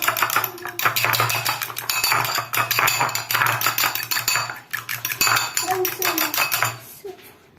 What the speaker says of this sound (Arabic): كنشد بيضه كنطربها مزيان كلها وتندير نسكافيه سريع الذوبان